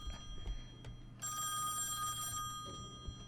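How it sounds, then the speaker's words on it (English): A telephone rings in the Song of Horror video game in a dark house with no electricity: one sustained, bright electronic ring burst of about a second, clear over a quiet low hum. "I shouldn't answer the phone. There's no electricity. How is it ringing?"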